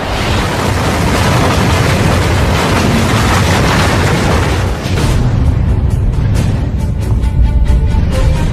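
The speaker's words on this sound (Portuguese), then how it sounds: "O Sistema Solar nasceu de uma grande explosão" A loud, sustained explosion effect rumbles through a space documentary about the violent birth of the Solar System, with deep booming that fades into a crackling series of sharp bursts and pops, with no voices.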